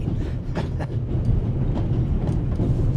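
Steady, loud train rumble from the video game The Raven: Legacy of a Master Thief, a continuous low rolling drone with faint rhythmic clatter and no pauses.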